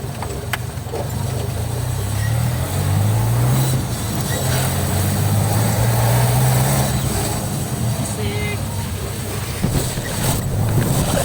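A Yamaha NMAX motor scooter engine with a running fault drones loudly and roughly while riding, with wind rush and the pitch rising and falling as it speeds up and slows.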